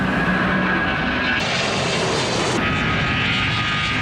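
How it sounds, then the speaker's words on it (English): Aircraft at busy Heathrow Airport, a loud continuous engine roar that fills the whole stretch with steady broadband noise and no voices. "Heathrow Airport. It's an airport and a pretty busy one."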